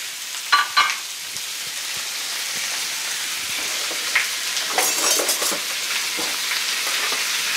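Chicken breast sears in very hot vegetable oil in a pan for fajitas, giving a steady, close frying sizzle with a few sharper spits and crackles near the start.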